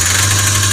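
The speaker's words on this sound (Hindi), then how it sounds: "अब हम इसको रेस लेते हैं तो इसमें कटकटाहट की आवाज़ आएगी।" A Hyundai Verna engine with an injector fault runs loud and close, giving a continuous droning hum with a rough, rattling texture as it is revved.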